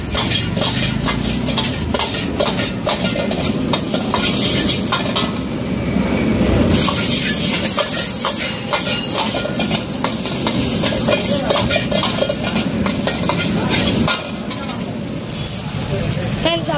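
Fried rice is tossed in a wok over a hotel kitchen burner, with loud continuous sizzling and rapid metallic clanks of a ladle against the pan, while someone talks over the cooking throughout.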